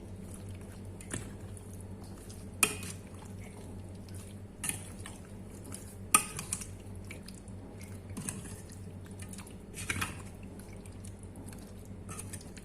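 Chicken marinade with garam masala is mixed by hand in a bowl, making soft, squishy wet sounds with occasional clicks over a steady low hum.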